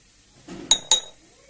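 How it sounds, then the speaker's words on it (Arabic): Meatball ingredients are mixed with an egg in a dish, heard as a soft scrape followed by two sharp, close clinks of a utensil against the dish. "نخلطوا المكونات كامل مع هذيك الحبه تاع البيض"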